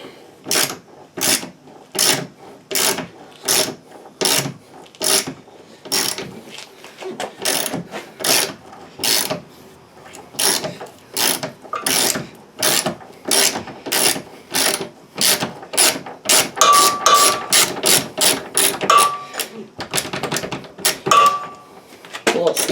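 A ratchet socket wrench loosening the rear bumper bolts of a Volvo 850, with repeated clicking bursts in a steady rhythm, close and loud, some faster runs toward the end.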